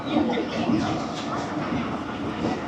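The Jaffar Express pulls into Gujranwala station in Punjab, with a steady rumbling roar of rolling railcars heard from on board and voices mixed in underneath.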